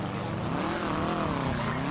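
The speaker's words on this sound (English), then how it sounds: "That's the loudest car I've ever heard in my life." Loud Rally Sultan car engine in GTA V roars continuously at high revs, a dense throaty drone that rises and dips slightly in pitch without pause.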